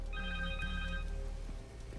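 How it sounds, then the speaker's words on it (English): A cell phone rings in the video game Spider-Man 2, a repeating electronic ringtone with clear tonal chirps that fade after about a second over a low background hum. "Connors' cell phone."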